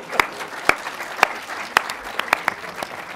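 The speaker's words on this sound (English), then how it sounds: "you get a round of applause every time you tell them" Audience at a film Q&A breaking into sparse applause, a scattering of distinct individual claps standing out over a low room murmur.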